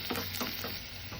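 Close sizzling of a hot oil tempering for palak chicken, crackling and spitting in short pulses as the pan is stirred.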